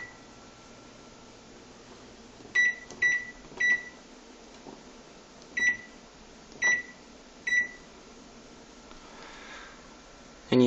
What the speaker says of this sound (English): you can see that the microwave is now working